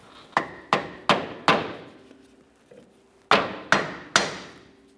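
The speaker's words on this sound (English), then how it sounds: "You can use a small block of wood, a rubber mallet. We'll give this a couple taps." A rubber mallet taps a rear shock and spring assembly onto its mounting stud on a 2014-2019 Toyota Corolla, with seven sharp, ringing knocks in two groups separated by a short pause.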